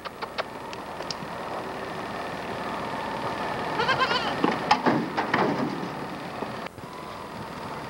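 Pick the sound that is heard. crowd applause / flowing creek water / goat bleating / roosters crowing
goat bleating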